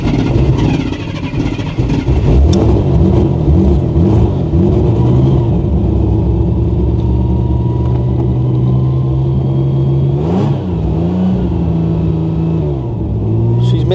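A long-abandoned Ford Granada Mk2 2.8 Ghia X engine runs unevenly with a galloping, missing idle, loud and close, its revs surging and dropping in waves throughout.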